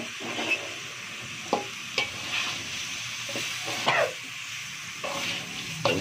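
Stirring spicy duck rica rica in a sizzling pan, with a steady hiss of frying under a series of scraping spatula strokes that come every second or so, close and clear with no talking.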